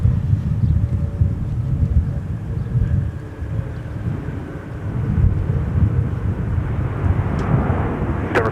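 A jet takes off from runway 17 at Minneapolis–St. Paul Airport, heard as a sustained deep roar that holds steady and swells slightly toward the end, loud and broad with no talk over it.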